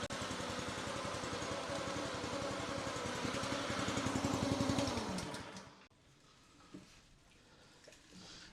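Revolution 26 reel mower's small engine roaring steadily after a pull start, loud and close with a rapid pulsing beat, then cutting off abruptly around the six-second mark, leaving quiet room noise and faint clicks.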